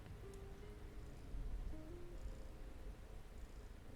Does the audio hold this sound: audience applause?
no